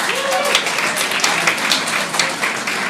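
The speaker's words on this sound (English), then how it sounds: "a big round of applause for them as well." An audience at the Youngplace grand opening in Toronto breaks into loud, sustained applause, a dense wash of clapping with no gaps, with a few faint voices mixed in.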